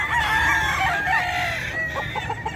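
A Golden Boy cross rooster with yellow legs crows loudly and close at the Bocaue pet market, a long strained call followed by a few short clucks, with no talking.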